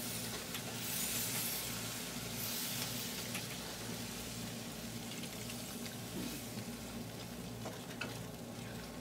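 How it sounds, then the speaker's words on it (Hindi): Water is poured into a pan of besan (gram flour) halwa as it cooks, giving a steady, continuous sizzling and bubbling hiss with stirring, fairly close and unbroken with no voices. "साथ ही इसके अंदर पानी शामिल करेंगे, 1 कप पानी शामिल करेंगे।"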